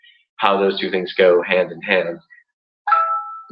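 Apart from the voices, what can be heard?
phone notification ding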